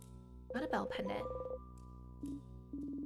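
A bell pendant item chime in the video game In Stars and Time: a bright ringing, bell-like tone with sustained overtones, followed by short repeated chime notes, heard alone.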